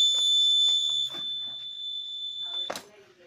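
A steady high-pitched electronic alarm tone from an anti-theft luggage bag alarm built around a magnetic coil sensor and LM358 op-amp sounds loud and continuous, cutting off abruptly near the end, with a voice speaking over it.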